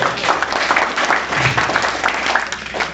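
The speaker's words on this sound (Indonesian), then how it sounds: "Sekali lagi berikan aplaus buat Pak Handoyo." An audience at a sales seminar claps, a continuous burst of applause from many hands filling the room at fairly high volume, with a few voices faintly mixed in.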